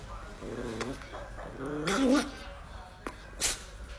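An angry Chihuahua barks and yaps in short sharp bursts, close and loud, with whiny growling between them and a few quick snaps near the end.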